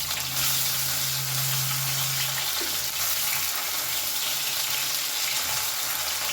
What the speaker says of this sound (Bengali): একটু কড়া করেই মাছগুলো কিন্তু আমি ভাজবো